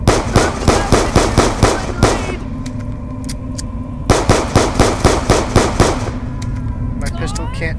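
Rapid gunfire in Call of Duty Black Ops 2 Zombies, loud close bursts of evenly spaced shots, then a brief pause, then another burst followed by scattered single shots.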